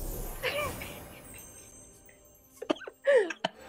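A person burps close to the microphone: a couple of short, throaty voiced bursts near the end, following a quieter stretch with a faint earlier vocal sound.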